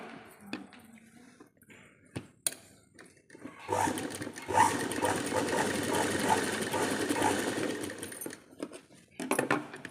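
A sewing machine runs in a steady whirring burst for several seconds while stitching a blouse, after a few scattered clicks and handling sounds, then stops and starts briefly again.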